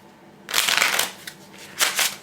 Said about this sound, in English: A little bit harder to shuffle, a little bit stiffer in my opinion.